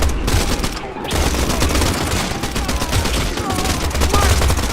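Pistol shots from a new sidearm in the video game Pioner ring out in loud, rapid, close bursts, nearly continuous over a noisy game background.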